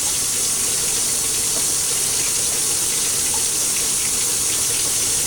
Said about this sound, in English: Get the sink water hot.